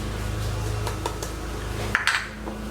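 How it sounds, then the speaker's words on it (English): Dry ingredients for glazed butternut squash bread being mixed in a bowl, a few clinking utensil-on-bowl taps and scrapes standing out over a steady low kitchen hum. "now I'm going to mix up my dry ingredients together"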